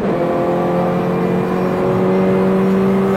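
An affordable race car drives on track, its engine producing a loud, steady whirring drone with a tone that climbs slightly as it accelerates, heard from close by with no talking.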